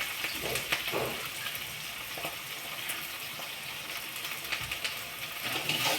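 Onion frying in a pan for a Marathi cowpea (chavali) curry gives a steady, close, hissing sizzle with faint crackles and light stirring, heard alone without talk.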